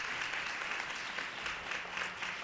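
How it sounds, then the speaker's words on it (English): Warm, steady applause fills the room at a women's forum gathering as the audience claps for standing commissioners, a continuous even wash of many hands with no break and no voices on top. "Let us applaud them for their work."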